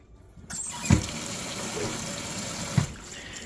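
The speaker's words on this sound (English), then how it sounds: "So let's rinse this thing out real quick" Water rinsing a classic South African three-quarter cast iron potjie pot: a steady close rush of running water starting after a brief quiet moment, with two sharp clunks of the pot along the way.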